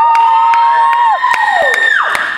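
An audience at a gig at The Post whoops and cheers for the singer. Voices call out in rising, falling yells over a few sharp claps, loud and close, with no speech.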